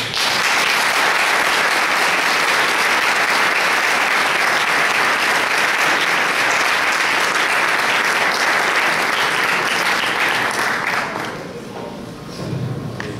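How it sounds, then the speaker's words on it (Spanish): An audience at a Latin American left-wing conference on Marx gives a long, loud round of applause in tribute, dense, sustained clapping that fades out near the end. "para recordar a Iván, un aplauso de todos"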